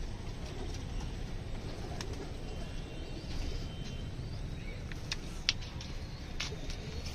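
Pigeons shut inside a coop, soft low cooing under a constant hiss of background noise, with occasional faint rustles and knocks.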